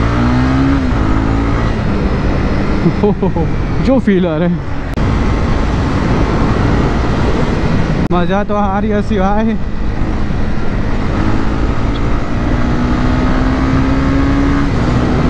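A Honda CB300R motorcycle engine revs up through rising pitch sweeps in two bursts, loud and close, while a rider talks over the steady engine drone between accelerations.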